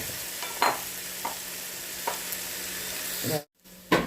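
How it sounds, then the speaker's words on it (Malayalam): Garlic, curry leaves and green chillies sautéing in a pan, a soft continuous sizzle with occasional spatula clinks, a short silent gap, then another stir. "വെല്ലുള്ളി, കരിവേപ്പില, പച്ചമുളക്, മറ്റേ ഉരുളക്ക് ഇതിനും കൂടെ ഇതിലിട്ടിട്ട് വഴറ്റിയെടുക്കുന്നുണ്ട്."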